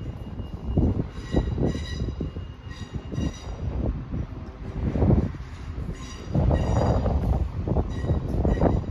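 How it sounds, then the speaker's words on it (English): A delayed Transport for Wales passenger service from Cardiff Central pulls into Gloucester station, with loud rumbling carriages, rhythmic wheel clatter and some squealing rising and falling as it rolls past close by. "Arriving in now is the severely delayed 1412 Transport for Wales service terminating here at Gloucester"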